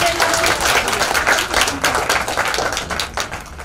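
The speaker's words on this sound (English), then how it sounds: "Let's clap for Khushbu." An audience at a beauty pageant welcome event in Mumbai breaks into applause, a dense, continuous wash of many hands clapping close by, steady and lively throughout.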